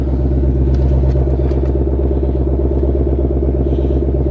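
A 2020 Shelby GT500 engine drones low and steady from close by, a continuous rumbling hum with faint clatter on top and no break in level.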